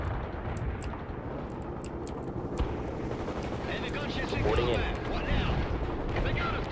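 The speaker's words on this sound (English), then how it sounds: "teams are calling in artillery on your position, Captain" An artillery barrage lands around a player's position in the World in Conflict strategy game as a continuous heavy rumble with scattered blasts, and a voice talks over the din.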